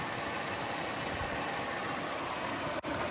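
A 2017 Audi Q7 3.0T Quattro with its 3.0 V6, about 127k miles, idles smoothly with a steady, even engine hum and rumble, close by and continuous, with a brief dropout near the end.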